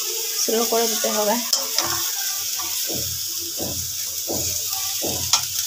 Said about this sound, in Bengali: এবার এটাকে ভালো করে একটু টাইম নিয়ে ভেজে নিতে হবে